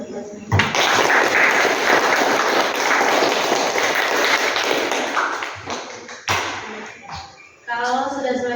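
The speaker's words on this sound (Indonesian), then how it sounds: "Tepuk tangan buat kita semua." A classroom of students claps hands together after a discussion and presentation, a loud, dense burst lasting several seconds, then tapering to scattered claps before a teacher's voice speaks.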